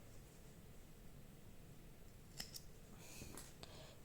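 Scissors snip through crochet yarn while finishing an amigurumi Christmas tree. A couple of quick, quiet cuts land close together near the end over a soft, steady background hiss, with no talking.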